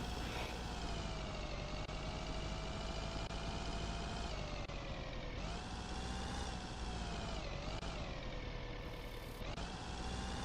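A truck engine idling in Road Maintenance Simulator, a steady droning hum with a tonal whine that dips and rises slightly in pitch, heard alone at a low, constant level.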